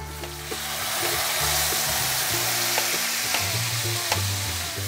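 Meat sizzles and fries loudly in a pan as tomatoes are added, a steady close crackle with stirring scrapes and no voices.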